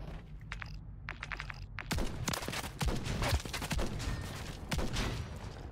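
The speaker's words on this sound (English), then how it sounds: "Oh, you just kept shooting" Sustained gunfire from a Call of Duty MW3 match, with dense rapid shots and sharp cracks repeating for several seconds, loud and close, preceded by a quieter moment of game sound.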